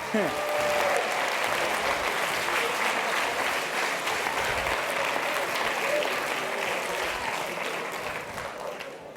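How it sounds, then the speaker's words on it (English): A crowd claps in sustained, dense applause that gradually fades slightly toward the end. "give yourselves a big round of applause"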